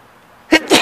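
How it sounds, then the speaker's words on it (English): A person sneezes twice in quick succession, both bursts sharp and close, with only faint room tone before them. "I'm going to sneeze."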